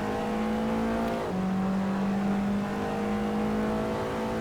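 An Alfa Romeo Giulietta TCR race car accelerates at Imola, its engine holding a steady, close whine with a quick dip like a gearchange partway through before it climbs again at full power.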